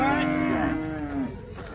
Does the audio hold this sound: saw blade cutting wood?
no